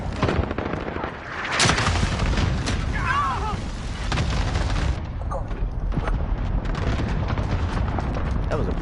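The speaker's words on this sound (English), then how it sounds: "Enemy cluster strike incoming." Enemy cluster strike in a shooter video game: a dense barrage of loud, overlapping explosions and booms rolling on for several seconds, with a voice speaking over the blasts.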